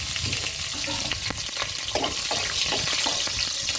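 Three slit green chillies and cumin hit hot oil and sizzle loudly and steadily up close, with scraping stir strokes breaking through the continuous frying hiss.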